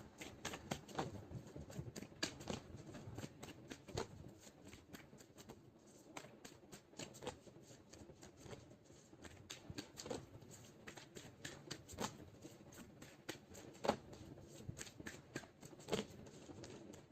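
Tarot cards being shuffled give a faint, steady run of soft riffling snaps and light taps that carries on without a break, heard alone with no voice over it.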